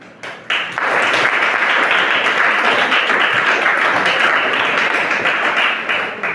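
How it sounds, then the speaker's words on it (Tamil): An audience breaks into loud, dense applause for a school principal who was once a dropout student, the clapping surging in after a short pause and holding steady and close until it tapers slightly at the end. "அன்றைய மாணவன் இன்றைய அதிபருக்கு நாங்கள் கரகோஷம் செய்து அவருக்கு நாங்கள் பாராட்டனாக தெரிவிக்கணும்"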